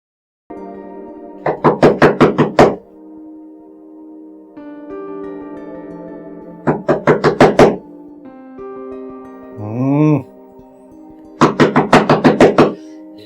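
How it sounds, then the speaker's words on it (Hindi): Knocking on a house door in a Pakistani comedy drama: three bursts of quick, loud raps, each about six knocks, separated by pauses while music plays underneath. "शनीला, शनीला, जाके दरवाजा खोलो।"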